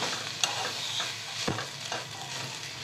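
Black chana tossed with fresh coconut in a pan, a low continuous sizzle broken by a few sharp spoon scrapes and clinks, close and fairly quiet with no voices.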